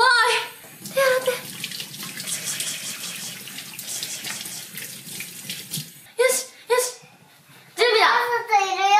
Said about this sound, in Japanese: ここで先に手洗って